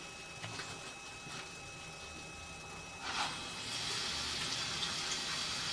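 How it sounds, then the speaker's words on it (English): Water runs from a tap into a drain clean-out, a faint, steady hiss and trickle that grows slightly fuller after a brief splash partway through, with no talking. "we're going to go ahead and turn some water on now"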